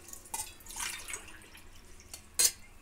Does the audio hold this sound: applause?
no